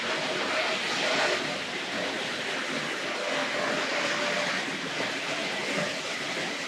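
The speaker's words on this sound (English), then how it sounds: "So shall we stop the TC train and just see what difference that makes to the overall sound in the room?" Hornby Dublo and Tri-ang Transcontinental model trains run on a layout, giving a continuous whirring rumble with faint wheel clatter, steady and fairly quiet in a room.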